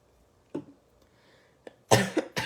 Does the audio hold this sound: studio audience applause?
no